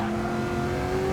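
Race car engine revving steadily high in its range, 75 to 100 percent, in Gran Turismo 7 at Bathurst, a sustained near drone with no talk.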